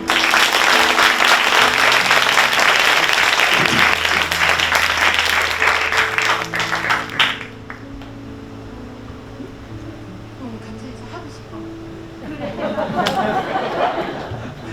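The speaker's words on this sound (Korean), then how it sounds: "박수 한번" A church congregation applauds loudly at a missionary dispatch service, with sustained keyboard chords underneath. After about seven seconds the clapping fades into quieter room noise, the music continues, and a brief swell of claps returns near the end.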